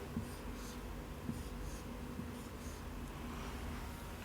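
A pen or pencil sketches squares by hand on paper, soft steady scratching strokes with light taps, faint and close, with no talking.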